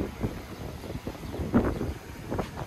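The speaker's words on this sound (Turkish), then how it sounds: "Abi, harbiden çok rüzgar var." Strong wind buffets the microphone outdoors in gusty, uneven rumbles that rise and fall over a few seconds.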